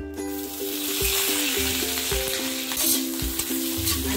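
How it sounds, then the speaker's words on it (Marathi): Halved green chilies frying in oil give a loud, continuous close sizzle with steady crackle throughout. "त्यानंतर त्यामध्ये हिरव्या मिरच्या मध्ये मध्ये 2 तुकडे करून त्या टाकून घ्यायचे"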